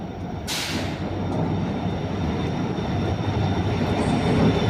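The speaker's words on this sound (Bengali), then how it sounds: "ট্রেন ঢুকছে।" A train pulls into a station on the way toward Siliguri, its steady rumble and rolling wagon noise building close by, with a brief bright hiss near the start.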